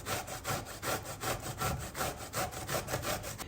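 Zucchini rubbed down a kitchen grater in quick, even rasping strokes, about four per second, close and dry with a steady rhythm and no talking.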